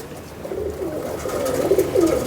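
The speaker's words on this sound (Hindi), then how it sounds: "ये इनका ब्रीडर कबूतर है।" A breeder pigeon coos close by in soft, repeated throaty phrases that grow slightly louder, with no voices over them.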